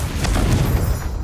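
A Confringo blast spell goes off in Hogwarts Legacy, a loud, dense low rumbling boom that sustains with crackling bursts throughout, standing alone without voices.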